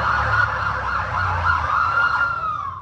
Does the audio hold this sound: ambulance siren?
yes